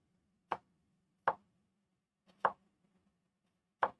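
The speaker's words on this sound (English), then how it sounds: "I shouldn't have cut all the way through the onion" A knife chops through an onion on a cutting board in four crisp, separate strokes, each a sharp close thud spaced about a second apart over faint background hum.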